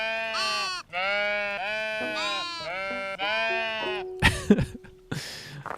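Several sheep in a castle-building video game bleat in long, wavering calls one after another, loud and clear, followed by a few short rustling clicks and a brief vocal sound at the end.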